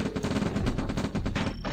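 Sustained minigun fire from the video game Command and Conquer: Red Alert, a dense, rapid rattling burst running steadily and loud for nearly two seconds with no voices over it.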